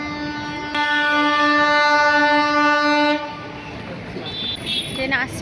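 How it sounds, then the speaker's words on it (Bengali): A train pulling into Bally station in West Bengal sounds a loud, sustained horn blast for a couple of seconds, then it cuts off into a rumbling, rattling roll with faint higher squeals. "ট্রেন আসছে বালিতে"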